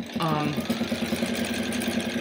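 A sewing machine runs steadily while stitching binding onto a black and white fat-quarter quilt, giving a loud, close, even mechanical whir and rapid needle rhythm that continues throughout, with a voice briefly at the start.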